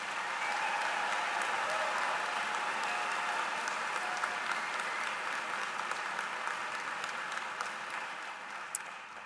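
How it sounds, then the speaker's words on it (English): Sustained applause from a commencement audience of medical graduates' families at a college of medicine ceremony, a dense steady clatter of many hands that holds for several seconds and then slowly thins. "Let's give them another big round of applause."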